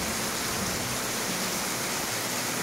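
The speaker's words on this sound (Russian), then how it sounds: "Дождь льет." Heavy rain pours down in a dense, steady hiss that stays constant and loud throughout, with no talking.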